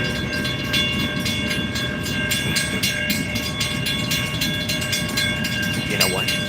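Freight train with tanker cars rolling past on a railway: a continuous loud rumble with rhythmic wheel clicks and steady tonal squeal, heard up close outdoors.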